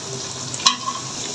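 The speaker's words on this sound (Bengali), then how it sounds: "মশলাটা একটু ভাজা হোক।" Spices fry in a pan with a soft continuous sizzle, broken once by a sharp clink of a utensil against the pan midway.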